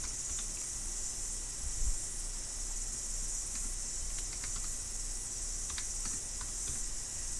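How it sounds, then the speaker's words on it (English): Light, irregular tapping of computer keys comes in short clusters under a steady hiss, close but soft. "I just switched back to typing"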